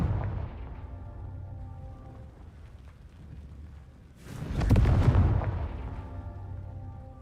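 A blast from the Confringo explosion spell in a Harry Potter video game: a loud, broad boom that erupts suddenly midway and rumbles on, following a quieter stretch of low game noise.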